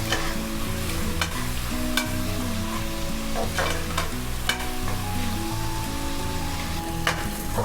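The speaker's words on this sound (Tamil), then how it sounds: "ஸோ ஆனியனை மட்டும் முடிஞ்ச மட்டும் நல்லா ப்ரௌனிஷாக வறுக்கேன்" Onions fry in oil for Hyderabadi mutton biryani, giving a steady close sizzle with frequent scraping stirs of a spoon in the pan, while a faint tonal hum runs underneath and nobody speaks.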